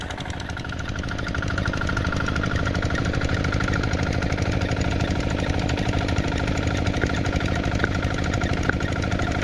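Two engines idle steadily and close by with a rapid rhythmic knocking chug, continuous and loud throughout, no voices.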